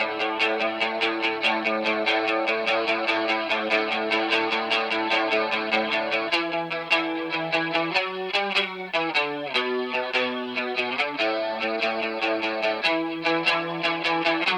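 An instrument part from a studio re-record of Joy Division's "Love Will Tear Us Apart", thick with saturation and a touch of reverb, a dense sustained distorted tone with steady rhythmic pulses, loud and continuous with no talk.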